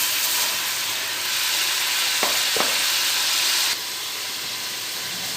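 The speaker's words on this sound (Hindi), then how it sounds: "प्याज का पेस्ट जो है वो मैंने डाल लिया, वो फ्राई हो गया" Onion paste sizzles and fries steadily in hot oil for mutton karahi, a loud continuous hiss with a brief stir or clatter midway and no talking.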